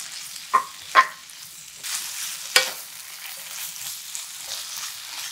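Seasoned namul, dressed with soup soy sauce and perilla oil, stir-fried in a pan over medium-low heat: a soft, steady sizzle broken by a few sharp scraping strokes of the spatula, with no talk.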